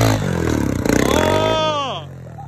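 A trials motorbike revs hard as it climbs through snow, its engine note rising and bending loud and close while people shout and talk over it.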